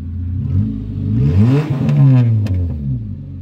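A 1.4 car engine with a full straight-through exhaust revs up loudly and unmuffled, the pitch rising then falling back, with raw rasping exhaust and a couple of sharp pops.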